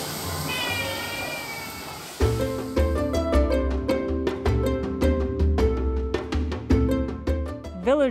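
A cat in a floating fishing village meows several times in a row, close and fairly loud, over a steady sizzling background. A person murmurs softly in the first couple of seconds.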